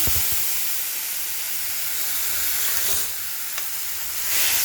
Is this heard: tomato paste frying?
yes